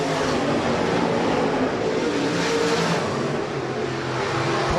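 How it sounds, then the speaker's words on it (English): USRA B-Modified race cars roar around the Rapid Speedway track in a dense, continuous wash of engine noise that holds steady and loud the whole time, with no voices heard. "5 cars left on the racing surface."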